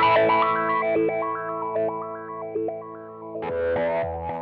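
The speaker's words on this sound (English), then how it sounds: "F50 has step telephos for an arpeggiator-like sound." A Sonuus Wahoo guitar effect on its F50 step-filter preset turns held distorted notes into a stepping, arpeggiator-like pattern of jumping tones, loud and steady, with a new strum partway through.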